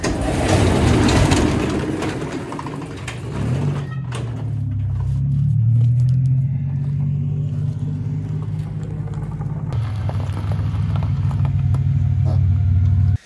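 Car approaching on a quiet, empty road: a low engine rumble slowly builds from a distance and grows steadily louder, with no talking.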